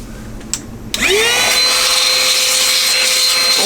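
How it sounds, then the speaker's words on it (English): A small Temu car vacuum cleaner, used as a blower inside an old computer, clicks on and spins up with a rising whine into a loud, steady, high-pitched motor rush, heard up close. "Let's test this blower function on this old computer."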